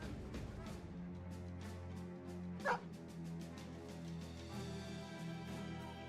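A dog barks once in the Battle Brothers video game, a single sharp yip standing out from steady game music and ambient background sound.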